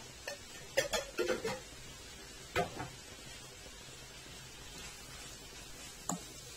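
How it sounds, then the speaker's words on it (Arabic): A spoon stirs food around a pan in a home kitchen, giving a few scattered scrapes and clinks over faint background sizzle, close and otherwise quiet. "بس اقلب بقى كله كده."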